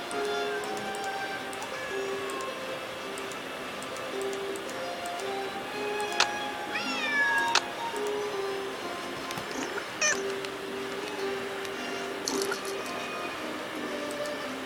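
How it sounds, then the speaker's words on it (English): A cat meows a few times over a steady tonal game-like background hum in the game Nancy Drew: The Secret of the Old Clock, the cries short and rising, with small clicks scattered around them. "Otherwise, he'll just keep meowing."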